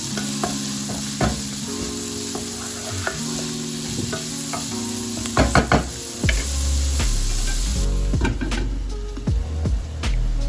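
Bean seeds and green chilies sauté in a pan, sizzling steadily while a utensil scrapes and knocks against the metal in irregular bursts.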